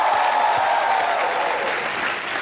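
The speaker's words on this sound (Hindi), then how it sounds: "एक बार फागुनी पाठक के लिए जोरदार तालियां होनी चाहिए" Studio audience of a Hindi comedy show in Dubai breaks into loud, dense applause that stays steady and close throughout, with no voice over it.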